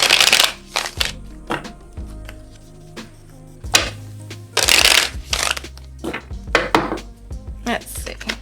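Tarot animal cards being shuffled and handled: a series of brisk riffling and flicking bursts with soft taps and thumps between them, close and fairly loud, with no talking.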